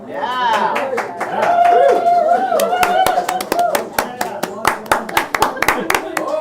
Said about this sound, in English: We're the only ones clapping.